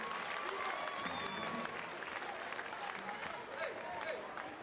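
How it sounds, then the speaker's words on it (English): Arena crowd at a WNBL women's basketball game between Perth Lynx and Geelong United applauds a player's hustle, a steady wash of clapping and crowd noise at moderate distance with faint commentary underneath. "Crowd showing their appreciation for her hustle"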